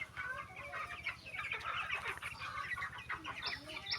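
A flock of two-month-old Egyptian Fayoumi chickens clucks and chatters nearby, overlapping short calls in a steady busy stream at moderate volume over a low background hum.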